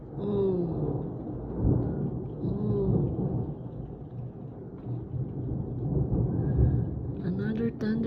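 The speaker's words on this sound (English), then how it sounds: "another thunderstorm." Thunder during a rainy morning thunderstorm in a park, low rolling rumbles repeating over several seconds while a person talks over them.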